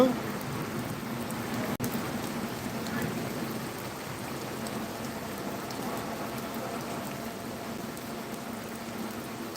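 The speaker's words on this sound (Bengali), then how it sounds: "বৃষ্টি হচ্ছে খুব জোরালো বৃষ্টি আপনারা দেখতে পাচ্ছেন প্রচুর বৃষ্টি" Heavy rain pours down steadily during a storm in Phulpur, a dense, continuous hiss and patter that stays loud and even throughout, with one brief sharp knock early on.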